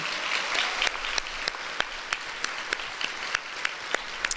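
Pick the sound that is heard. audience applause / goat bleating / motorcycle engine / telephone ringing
audience applause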